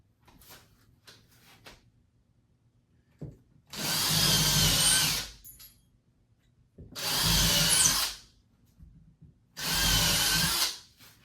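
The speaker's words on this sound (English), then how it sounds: "I'll drill pilot holes with my drill to give the lag bolts something to go into" A power drill boring pilot holes into a wood wall stud for lag bolts: three close whirring bursts of a couple of seconds each, separated by short pauses with faint handling noises.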